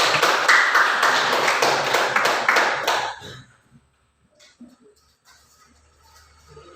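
A room full of people applauds for about three seconds, steady dense clapping that then fades out, leaving faint shuffling and quiet room noise.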